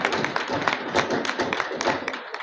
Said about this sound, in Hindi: उसके लिए जोरदार तालियां